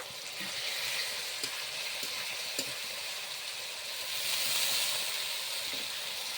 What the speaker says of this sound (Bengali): টমেটো বাটা সব একসঙ্গে ভালোভাবে ভেজে নেব।